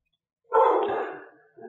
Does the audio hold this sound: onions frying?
no